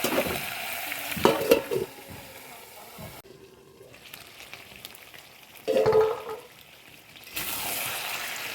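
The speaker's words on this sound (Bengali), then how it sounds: "মাংসটা ভালো করে কষে নেব। অল্প করে কষাবো আর ঢাকা দেবো।" Chicken is stir-fried in a pan for a chicken curry with taro, with a steady sizzle under scraping and stirring, a few clanks of the utensil, and a louder burst of frying near the end.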